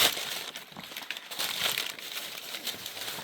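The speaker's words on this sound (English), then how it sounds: "I want to take paper and I want to shove the paper in here" Paper is crumpled and shoved into a craft project, giving close, continuous crinkling and rustling with a few sharper crackles over about three seconds.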